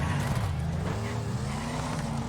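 An unupgraded car in the Wreckfest racing game drones with a loud, steady engine note that holds its pitch, as though shifting slowly, with no talking.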